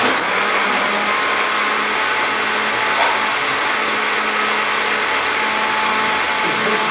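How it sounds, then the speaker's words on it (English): Blender grinding raw long-grain white rice together with a whole cinnamon stick, a loud constant roaring whir that holds steady throughout with a faint rattle of grains. "Wait to turn the blender on for that."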